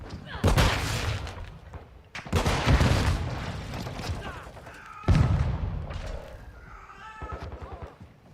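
Call of Duty Modern Warfare II match with an RPG-7 loadout: loud, close bursts of gunfire and heavy explosive blasts, several surging volleys with game voice lines mixed in.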